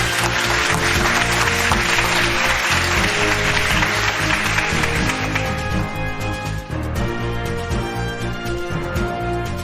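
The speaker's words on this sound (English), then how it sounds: "Round of applause as we crown our new kings" Applause breaks out for two cartoon characters being crowned new kings, a broad wash of clapping mixed with loud, steady music that fills the whole stretch.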